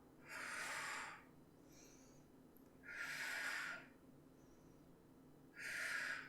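Three slow, loud, airy breaths are drawn and pushed out at an even pace during a Pilates abs and legs workout, each lasting about a second with quiet pauses between them.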